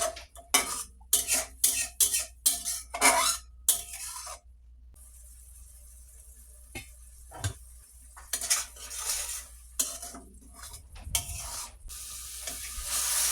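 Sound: stirring and frying spice masala in a pan

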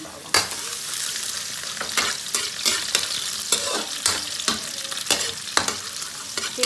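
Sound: garlic sautéing in hot oil in a pan

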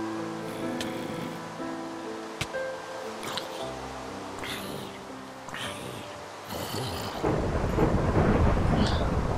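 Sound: thunder from a lightning strike in the video game Minecraft

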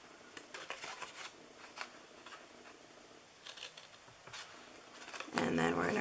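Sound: scissors cutting paper for a gift box

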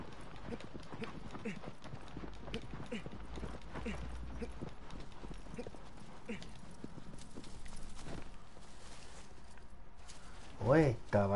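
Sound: horse hooves clip-clopping

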